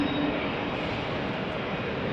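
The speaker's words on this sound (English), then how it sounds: "these planes are waiting to get in the A concourse that you can see right" A steady, fairly loud broadband engine roar from airplanes taxiing or waiting near the A concourse at Salt Lake City International Airport, continuous with no talk.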